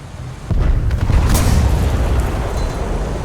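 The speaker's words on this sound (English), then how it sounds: "sound design that can make every explosion feel like it's happening right there in your bedroom" A War Thunder in-game explosion starts with a sudden heavy boom, then a loud, rumbling roar that lingers and slowly fades over a few seconds.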